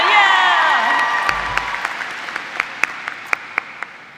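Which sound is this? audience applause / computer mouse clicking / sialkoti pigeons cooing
audience applause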